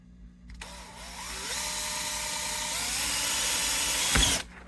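A power drill bores through a BC Rich bass guitar body for a Kahler bridge installation, one sustained whine that climbs slightly in pitch and then cuts off, close and alone.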